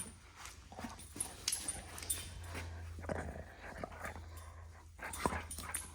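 A dog whimpers, yips and growls playfully while tugging at a person's shirt, its soft whines and mouthy grumbles close by over a low steady hum.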